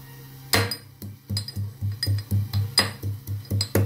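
Ginger and whole spices are pounded for monsoon masala tea, a steady run of about a dozen sharp, ringing strikes with a metallic clink, close and fairly loud, with no talk.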